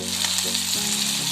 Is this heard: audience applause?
no